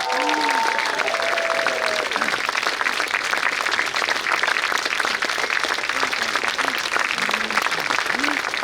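A concert audience at the Tapa town orchestra's centenary performance claps for a soloist: broad, steady applause from many hands filling the hall, with a voice briefly audible at the start.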